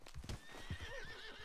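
Horse hooves clip-clop at a gallop in Red Dead Redemption 2 while the horse neighs and whinnies, loud and close, with rhythmic hoofbeats and a drawn-out whinny over a busy game background.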